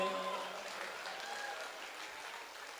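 An audience at a Hindi poetry gathering in Rath, Hamirpur, claps in a fairly faint, fading burst that tapers off over a few seconds, with a voice speaking faintly over it.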